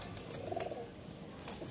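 A pigeon coos softly several times against a steady background hiss, the calls low and close, from a Kasoori breeding pigeon kept by a fancier.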